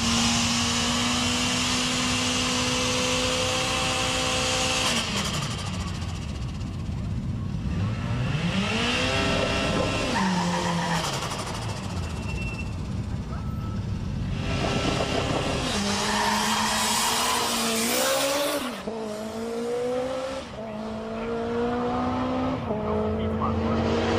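A Nissan S13 Silvia with a CA18DET engine launches down a drag strip, the engine winding up through rising shifts with tire squeal and a loud, close roar, while a voice talks over it.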